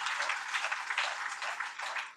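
A church congregation claps loudly in thanks, a dense, steady wash of applause that carries on without a break for a couple of seconds.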